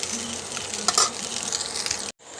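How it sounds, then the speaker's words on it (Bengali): Chowmein lightly frying in a pan sizzles steadily up close, with stirring scrapes and a clink, then cuts off abruptly before a softer hiss returns. "হালকা করে ভেজে নিচ্ছি তো খুব কড়া করে ভাজিনি"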